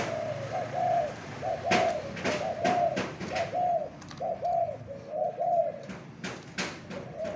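Spotted dove decoy bird at Khao Yai repeatedly cooing in a steady rhythm of short phrases, fairly close and clear, with occasional sharp chirps and clicks from other birds in the background.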